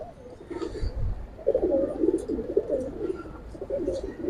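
A silver pigeon courting gives soft, low cooing calls in a few short bursts, close but fairly quiet.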